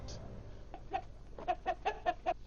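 Cartoon chickens clucking in a quick series of short, close bursts, growing more regular toward the end, fairly quiet.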